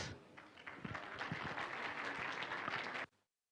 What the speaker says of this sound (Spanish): Vamos a recibirlo con fuertes aplausos